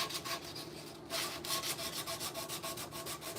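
Close hand sanding on the wood of a rocking horse, a steady back-and-forth rasp of paper on wood with a brief pause, then even, rhythmic strokes repeating about three times a second.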